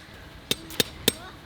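Three sharp, evenly spaced hammer strikes ring out close by at a roadside camp on a caravan trip to Cape York, each a bright metallic knock against a quiet outdoor background.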